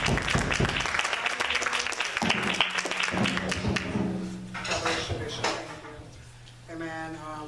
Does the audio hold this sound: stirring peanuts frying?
no